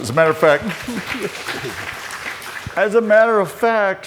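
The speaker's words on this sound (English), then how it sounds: "Let's give it a round of applause." An audience at a talk on autonomous vehicle ethics applauds in a brief burst between stretches of someone speaking, the clapping moderately loud and partly under his voice.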